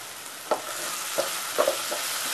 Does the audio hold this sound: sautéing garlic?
yes